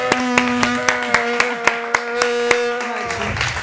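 Steady rhythmic clapping from an audience welcoming a singer, sharp even beats about four per second over a sustained musical tone, stopping abruptly near the end.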